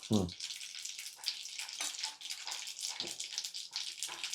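Mustard seeds sputter and crackle in hot oil for a South Indian tempering, a dense, steady hiss broken by a few low thumps from the pan, close and continuous throughout.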